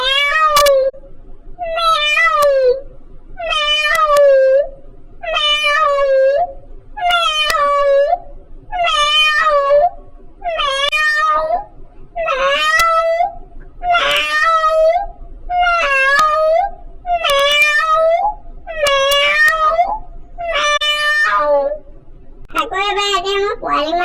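A human voice imitates an old cat, giving about a dozen long, drawn-out, wavering meows in a steady rhythm with short pauses between them, loud and close.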